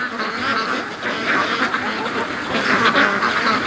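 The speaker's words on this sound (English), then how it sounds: "Handicapped little duck." Free-range ducks quack in a dense, continuous chorus outdoors in a yard near a lake, loud and close with no talk over them.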